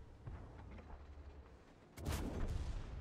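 A tank cannon fires in the World of Tanks video game, one loud booming shot with a rolling tail that rises sharply over a steady low engine rumble and then lingers.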